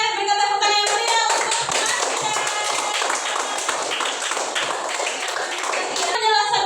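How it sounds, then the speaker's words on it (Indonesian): A class of students gives lively clapping during a science lesson, steady and fairly loud for most of the clip, with children's voices and talk mixed in. "Berikan tepuk tangan yang meriah"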